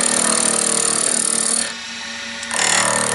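A wood lathe spins a pen blank while a skew chisel cuts it, giving a loud, gritty whir that drops away briefly near the middle and then returns just as strong.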